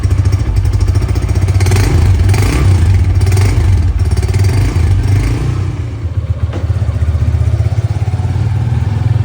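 A 2024 Honda CB150F motorcycle pulls away at the start of a morning ride, its engine loud and close with a rough, rising rev, some clatter and a slight dip before picking up again.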